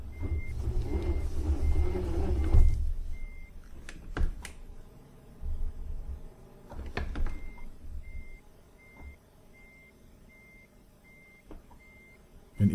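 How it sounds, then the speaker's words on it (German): A truck in Euro Truck Simulator 2 slowly backs a semi-trailer into place, its reversing alarm beeping in a steady, evenly spaced rhythm over a low engine rumble, with occasional sharp clunks and hisses. "Und dann wollen wir nochmal ganz in Ruhe den Auflieger da reinschieben."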